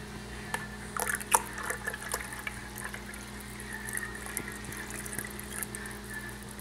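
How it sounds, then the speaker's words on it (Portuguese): Oil and vinegar poured into a blender jar for a homemade salad dressing make a soft, close trickling and splashing, with a few sharper drips and clinks over a low background hum. "aqui no liquidificador vocês vão colocar 2 xícaras de chá de óleo ou 2 xícaras de chá de azeite, 4 xícaras de chá de vinagre"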